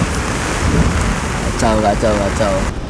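Stormy sea pounds a rocky fishing coast at Gunung Kidul, Jogja, with a loud, continuous roar of wind and surf. Waves crash throughout, and a few short tonal calls rise near the end.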